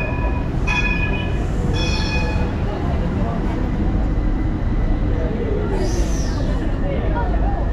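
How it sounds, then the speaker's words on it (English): A tram pulls into a station in Istanbul, a steady loud rumble of rail cars with brief tonal squeals and chimes, heard close and continuous throughout. "our tram is here, direction Eminönü"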